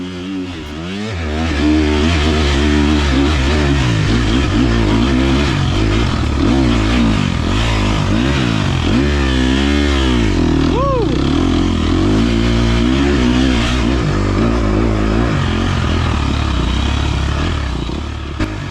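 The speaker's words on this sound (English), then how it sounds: "I was pretty much first gear," A dirt bike engine revs hard in first gear while climbing a very steep hill during an A250-class race, wavering up and down in pitch loudly and close, with brief mechanical clatter.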